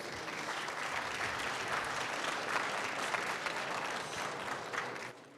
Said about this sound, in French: On peut leur dire bravo, là, on peut les applaudir